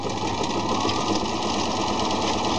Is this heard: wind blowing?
no